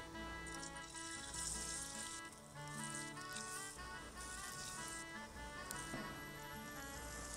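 Battered shola kochu (taro) fritters fry in hot oil, a steady dense sizzle and bubbling crackle that stays loud and continuous throughout, with no talking.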